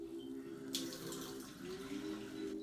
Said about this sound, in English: So I'm adding the water now.